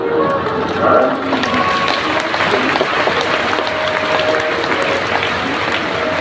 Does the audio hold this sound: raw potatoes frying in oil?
no